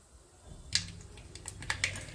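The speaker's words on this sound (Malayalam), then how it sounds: "കടുക് നന്നായി പൊട്ടിയിട്ടുണ്ട്" Mustard seeds popping in hot coconut oil, a spoonful crackling in a pan while fish curry is cooked, giving sharp scattered pops that start sparse and then come in quick irregular bursts, fairly close and moderately loud.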